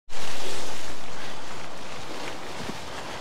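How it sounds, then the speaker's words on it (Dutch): Strong storm wind buffeting a helmet bodycam while mountain biking through the woods at Schoorl, a loud continuous roar of wind noise that swells at the start and slowly eases, with no speech. "Het waait gigantisch, maar ik heb er geen last van."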